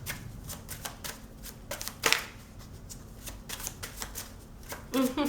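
Tarot cards are shuffled by hand, a steady run of crisp riffling and flicking bursts close up, with faint voice near the end.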